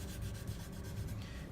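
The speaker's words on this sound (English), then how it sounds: "it looks like I'm sanding right through to the wrench shape" Sandpaper rubbing a primed surface while a ripple is smoothed out on a workshop piece, a quiet, continuous close scrubbing with a faint back-and-forth pulse.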